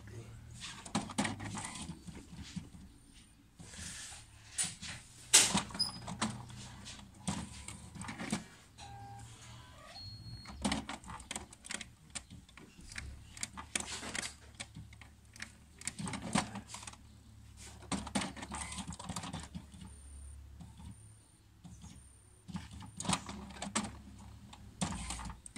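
An HP Smart Tank 530 inkjet printer running its cartridge-cleaning cycle, with quiet irregular clicks, whirs and clunks of the print mechanism heard close, interrupted at times by a person talking.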